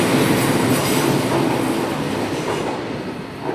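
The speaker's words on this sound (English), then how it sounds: "Also departing out 332-010 Heathrow Express service to Heathrow Terminal 5." A Class 332 Heathrow Express train pulls out of London Paddington, a loud close rumble of wheels and traction noise that holds steady and then eases slightly as it departs, with no voices.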